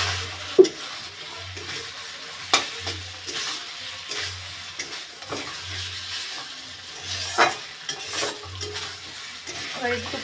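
Potatoes and eggs fry in a spice paste in oil while a spoon stirs them, giving a continuous close sizzle with repeated scraping strokes and occasional sharp knocks against the pan.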